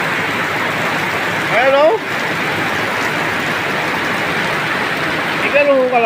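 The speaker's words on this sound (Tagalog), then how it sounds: "Tingnan yung bulos ng tubig na yan." Strong, steady rush of floodwater flowing near a school during heavy rain, a broad continuous roar that stays loud throughout, with two brief exclamations from a man over it.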